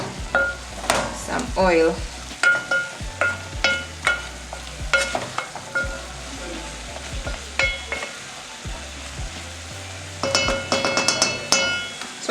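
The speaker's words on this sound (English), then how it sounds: "I'm just stirring to make sure the meat is dry" Beef is stirred in a sufuria on the stove, with a spoon scraping and knocking against the pot in uneven strokes over a constant sizzle and a brief spoken phrase.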